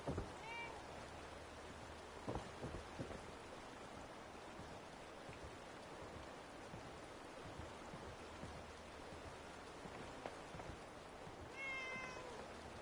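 A cat meows faintly in the video game Fallout 4 Far Harbor, with brief calls near the start and end over a constant rain-like hiss.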